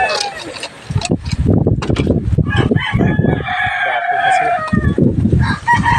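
Hens cluck busily up close while a rooster crows loudly partway through, with a voice speaking briefly over the flock.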